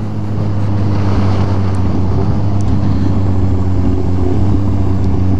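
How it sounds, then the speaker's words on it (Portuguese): A small motorcycle engine idles and runs steadily on a São Paulo street, a loud continuous low drone with a buzzing tone and wind noise on the microphone, with no talking. "A motinha chama atenção, hein. Tanto pelo barulho quanto pelo design."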